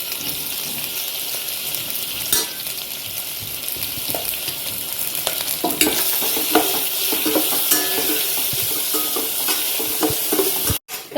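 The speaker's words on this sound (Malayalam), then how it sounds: "സവാള കുറച്ചൊന്ന് വഴണ്ട് വന്നിട്ടുണ്ട്." Onions sautéing with salt in a pan for chicken stew give a steady, close sizzle, with stirring scrapes throughout and a brief pause near the end.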